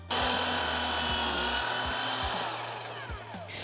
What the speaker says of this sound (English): I am drilling pocket holes along the front half edge of the side pieces